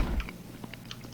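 A character bites and chews pizza in the video game My Summer Car, several quiet crunchy bites heard alone over low background hum.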